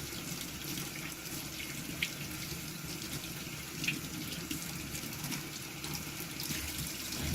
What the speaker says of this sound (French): on va se rincer les doigts